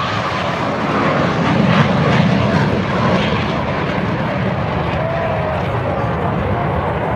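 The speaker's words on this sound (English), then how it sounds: "the A-4 Skyhawk." An A-4 Skyhawk warplane passes at an air show during a Vietnam re-enactment, a loud broad jet roar that swells and then holds steady, with an announcer talking over it.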